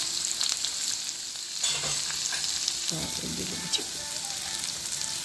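Onions, cumin and spices frying in hot oil for a Chennai Chettinad-style crab fry, a loud continuous sizzle with bursts of stirring and spatula scrapes partway through.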